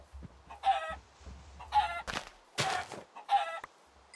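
A chicken in the video game Minecraft clucks in four evenly spaced bursts, close and clear, with soft rustling between them.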